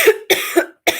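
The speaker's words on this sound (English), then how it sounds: "I knew I was going to start coughing." Four quick, sharp coughs in a rapid close burst from a person sick with a cold or COVID-like illness.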